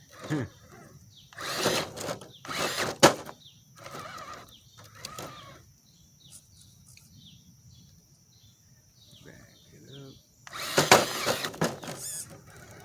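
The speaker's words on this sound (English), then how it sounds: "This motor's got a lot of torque." An Element Enduro Sendero HD e-bike fitted with a Team Brood motor runs in short bursts, each a loud whirring mechanical whine with gaps of near silence between them, close to the listener and with no talking.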